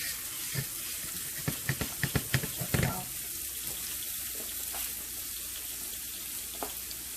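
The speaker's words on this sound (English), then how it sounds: "We're going to add our 2 cloves of garlic." Two cloves of garlic dropped into butter in a pan, a burst of crackling pops at the start that settles into a steady soft sizzle.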